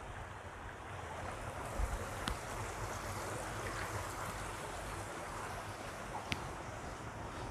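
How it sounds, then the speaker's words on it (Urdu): A stream of water flows beside a village in the Austrian mountains, a constant broad rushing wash with faint wind and a couple of soft knocks. "پانی کی آواز آ رہی ہوگی آپ کو بھی"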